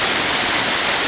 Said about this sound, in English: And I am officially won over by this waterfall.